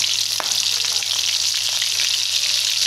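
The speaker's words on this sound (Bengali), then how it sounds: "কড়াইটা গরম হয়ে গেছে, তেল দিয়ে দিলাম গরম মশলা, তেজপাতা, বাটা, আদা রসুন বাটা," Whole garam masala spices, bay leaf and ginger-garlic paste fry in hot oil in a wok, a loud steady sizzle and crackle with a few sharper pops, close by and alone with no voices.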